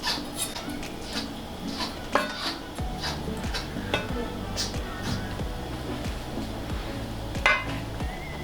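A knife scrapes the skin and scales off a piece of salt fish, making close, repeated rasping strokes with light clicks and taps of the blade in a kitchen.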